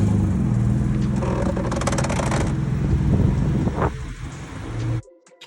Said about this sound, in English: the car does this like super loud scraping sound